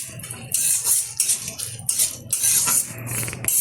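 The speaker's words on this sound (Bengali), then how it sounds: "হালকাভাবে কিশমিশটাও আমি ভেজে নিলাম" Raisins lightly fried and stirred in a pan while making lachha semai, with a spatula scraping and clinking against the metal in a quick, irregular series of close, fairly loud strokes and no talking.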